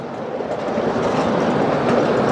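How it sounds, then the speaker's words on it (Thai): Red Line electric train running near Rangsit station in Thailand, a steady loud rumbling roar of wheels and car body heard from on board, continuous throughout with no voices. "เดินทางด้วยรถไฟฟ้านะฮะ สายสีแดงนะครับมาจากสถานีกลางบางซื่อนะฮะมาลงที่ สถานีรังสิต"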